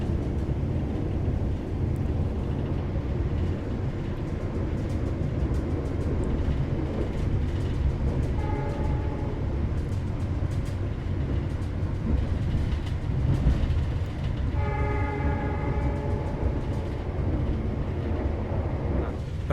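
The KA Anggrek passenger train rumbles along with a loud, constant low roar of wheels and carriage noise, and a tonal horn-like note sounds briefly midway and again near the end over the roar.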